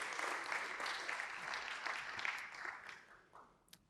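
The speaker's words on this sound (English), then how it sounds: "please give a big round of applause for Elizabeth Mart" An audience at a breakfast keynote applauds in a steady, moderately distant wash of clapping that gradually tapers off, with a few last scattered claps.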